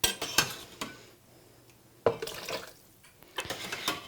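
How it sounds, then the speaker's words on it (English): Hot soup ladled from a pot into a Blendtec blender container, with a few sharp metallic clinks of ladle against pot and container separated by quiet pouring and light liquid sloshing. "bring your blender container over to your soup pot and start to ladle it into your container"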